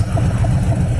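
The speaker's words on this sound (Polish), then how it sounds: "Jakie wibracje są, zobaczcie, jak ten silnik się trzęsie" Harley-Davidson motorcycle engine idling close by, a steady, deep, throbbing low rumble that holds even throughout, with no voices.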